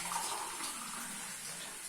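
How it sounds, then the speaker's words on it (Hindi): Water poured into a pan of onions while cooking, a steady broadband rush and hiss of flowing liquid lasting the whole moment, close and even, with no talking. "तो फ्रेंड्स अब इसमें डालेंगे पानी ताकि प्याज हमारी सॉफ्ट हो जाए"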